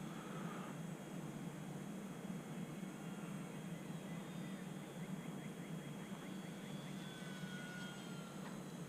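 An E-flite UMX Air Tractor RC plane with an electric motor flies slow and low, giving off a steady, soft whirring drone that stays fairly constant throughout.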